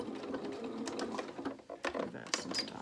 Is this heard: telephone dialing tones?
no